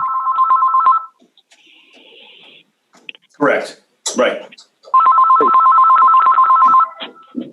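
A desk telephone rings loudly in two long electronic trill bursts separated by a short spoken exchange, the ring close and clear in a quiet room.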